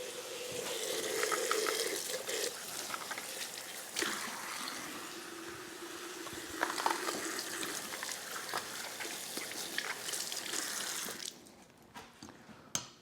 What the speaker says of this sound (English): I rinse it in the sink and then we come back and chop, okay?